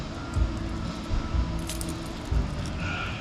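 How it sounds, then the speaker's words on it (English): A bunch of keys jangling and clinking as they are tried one after another in a bulk vending machine lock, a few sharper metallic knocks standing out over faint background noise. "I keep trying the same keys over and over."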